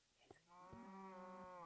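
A single drawn-out cow moo from a cow farm in a video game, faint and low-pitched, rising after a short grunt and holding for over a second with nothing else around it.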